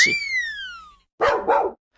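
A dog gives a high, whining yelp that trails downward, then after a brief pause lets out a quick double bark.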